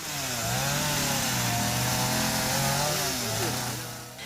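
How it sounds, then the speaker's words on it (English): Chainsaws cutting through downed trees blocking a road in Wilmington, Jamaica, a loud continuous snarling drone with the pitch rising and dipping as the blade bites, close and sustained throughout. "Machetes and power saws in hand, residents of Wilmington teamed up to clear the road."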